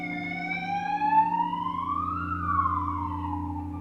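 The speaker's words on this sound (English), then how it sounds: "I don't know if you could hear that siren" A siren wails in the background, its tone slowly rising and then falling in a long sweep over a low steady hum.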